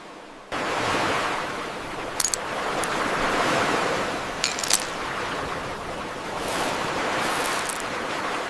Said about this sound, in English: A serene coastal village awakens, gentle waves and bobbing boats.